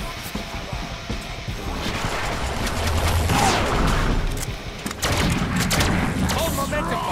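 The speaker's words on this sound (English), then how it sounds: "I still got people shooting me." Enemy gunfire in a Deadpool video game: steady bursts of shooting mixed with crashes and mechanical clatter, loud and up close, running under someone talking throughout.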